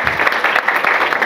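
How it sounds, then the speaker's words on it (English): Participants at a laparoscopic surgery training course clap together as a group, giving a brisk, even roll of many hands from start to finish, close and fairly loud. "first give us all a big clap."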